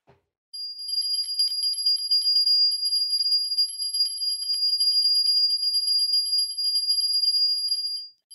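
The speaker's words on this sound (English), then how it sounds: "I've got a bell." A hand bell rings continuously for about seven seconds, bright and steady, close by and fairly loud, with no talking.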